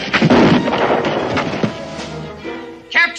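Gunfire in a 1969 western TV drama, a dense burst of loud cracks and booms at the start that fades into a rumbling tail, then a sharper hit near the end.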